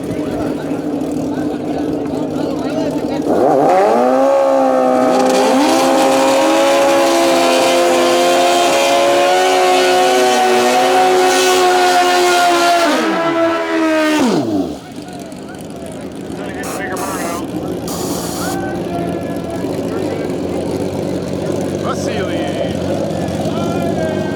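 A nitrous-powered drag racing motorcycle blasts down the strip at a Canadian event, its loud engine rising in pitch for about ten seconds before cutting off abruptly, with a commentator talking over the noise.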